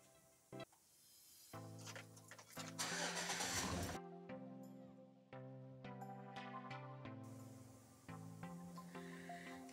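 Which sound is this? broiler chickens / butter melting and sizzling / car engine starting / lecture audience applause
car engine starting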